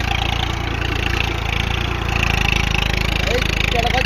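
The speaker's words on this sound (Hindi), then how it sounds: "ये ट्रैक्टर चल रहा है वो धुआं दे रहा है बिल्कुल।" A tractor engine on a rough village road chugs steadily nearby with a rhythmic low putter, loud and continuous, giving off smoke, with faint voices in the background.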